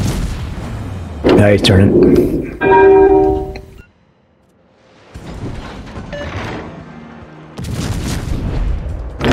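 Naval artillery in World of Warships booming in heavy salvos with ringing metallic tails, a quiet pause, then more distant rumbling fire, with someone talking over parts of it.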